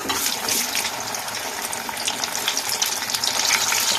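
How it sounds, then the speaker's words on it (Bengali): An egg and flour snack fries in hot oil with a steady, loud crackling sizzle throughout, dense and continuous with no pauses. "আমার লাল লাল করে এগুলো ভাজা হয়ে গেছে"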